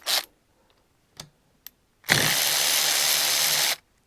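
Hyper Tough 1/4 inch brushed impact driver loosening a 3/8-16 bolt: a few short clicks and trigger blips, then one loud continuous buzzing, rattling burst of about two seconds close by that stops abruptly.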